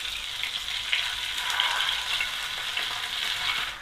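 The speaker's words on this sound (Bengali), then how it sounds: "শাসলিকগুলোকে মিডিয়াম লো হিটে খুব ভালোভাবে চারপাশে ভেজে নিতে হবে" Chicken shashlik frying in a pan over medium-low heat with little oil gives a steady, even sizzle that stays close and moderately loud throughout, with no voices.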